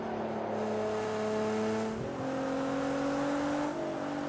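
A Nissan GTR race car in Project Cars 2 at the Nürburgring roars steadily up close, its engine pitch climbing through the gears with a brief dip at a shift, with no talk over it.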